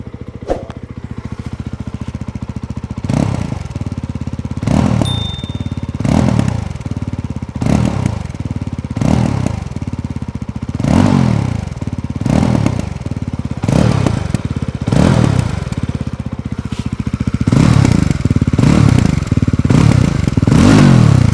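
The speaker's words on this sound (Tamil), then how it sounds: "ஸோ இதான் நம்ம பைக்கோட எக்ஸாஸ்ட் நோட்டு." A 2025 Yezdi Roadster top-model motorcycle in Shadow Black runs close by, idling with a throbbing exhaust note broken by repeated sharp revs about every second and a half, getting heavier toward the end.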